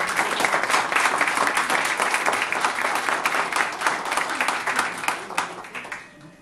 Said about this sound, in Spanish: quien pido un aplauso.